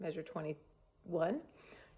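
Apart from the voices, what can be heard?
None of the usual background noises is heard.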